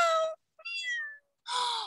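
A cat meows three times, clear and close, with short silent gaps between each call.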